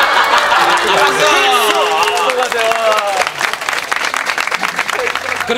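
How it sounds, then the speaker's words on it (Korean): An audience claps and cheers during a Korean variety show taping on Baengnyeong Island. The applause is a dense, steady wash with voices talking and calling out over it throughout. "박수."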